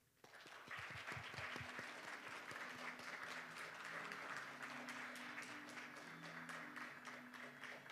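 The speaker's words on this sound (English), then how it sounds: "please let us welcome our panelists on the stage with a big round of applause" An audience at a 2018 international affairs conference applauding to welcome panelists onstage, dense sustained clapping that swells in after a brief quiet start and continues to the end.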